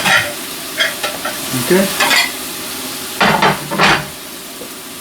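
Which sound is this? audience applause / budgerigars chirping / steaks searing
steaks searing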